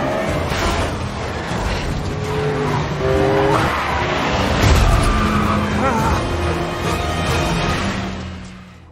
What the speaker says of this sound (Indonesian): Di suatu waktu mobil Mike harus terjun bebas ke jurang akibat disenggol oleh Javier